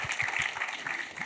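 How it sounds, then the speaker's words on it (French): An audience at a film festival debate applauds the musicians, a brief steady patter of claps heard close. "Je vais les applaudir, merci."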